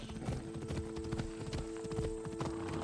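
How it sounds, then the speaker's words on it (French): A horse's hooves clip-clop at a steady trot in Assassin's Creed Odyssey, with quick, even hoofbeats close by over a constant tonal game background. "Quel cheval."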